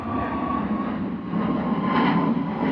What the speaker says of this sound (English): Bit of a go-around for the Ryanair.